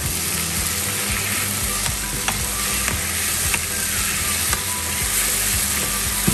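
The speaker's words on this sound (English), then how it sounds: "So you just use your wooden spatula and we'll work that tomato in the pan." Tomato sizzles loudly and steadily in a pan for pizza sauce while a wooden spatula scrapes and pushes it around in irregular strokes, with no talking.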